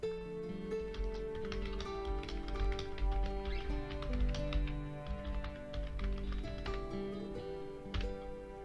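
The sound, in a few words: typing on a computer keyboard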